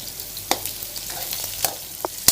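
Food is stirred in a hot frying pan: a steady soft sizzle broken by a few sharp scraping clicks of the utensil against the pan, close by, with no talking.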